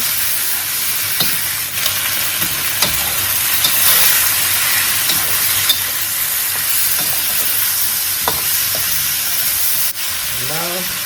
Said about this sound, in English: you don't really need to stir fry that long. So just make sure you cook the vegetable.